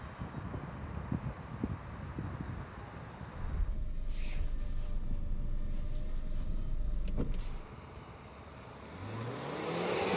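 A Range Rover Velar pulls away hard from a standstill on a test track, its engine rising in a steady, sustained surge with strong wind noise, the sound easing off and then building again near the end.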